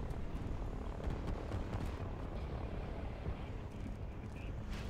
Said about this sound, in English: Helicopters just patrolling the ocean over here